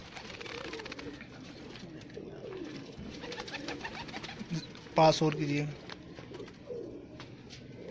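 Pigeons coo softly in a loft, with one brief, clearer call standing out midway, while people talk nearby throughout.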